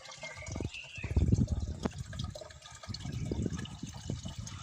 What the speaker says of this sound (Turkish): Dağlardan gelen sular.